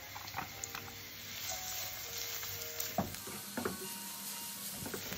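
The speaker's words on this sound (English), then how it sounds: "put olive oil, add bay leaves, garlic, and chopped white onion." Chopped white onion, garlic and bay leaves sizzle gently in olive oil, a quiet, even hiss with occasional soft clinks and stirring taps from a utensil in the pan.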